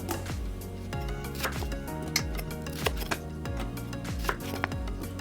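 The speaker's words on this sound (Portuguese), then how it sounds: "eu corto a cebola e coloco desta forma no fundo da panela" A knife chops onions rhythmically on a board, repeated crisp thuds about twice a second, close up with no voices.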